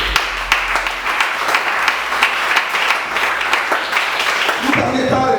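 A church congregation applauding steadily, a dense wash of many hands clapping with some crowd voices mixed in, staying even in loudness throughout.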